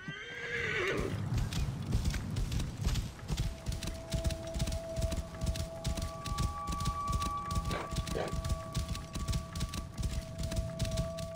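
A horse in the video game Assassin's Creed Origins whinnies loudly at the start, then trots with a steady, even clip-clop of hooves that carries on alone throughout.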